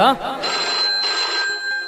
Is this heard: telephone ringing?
yes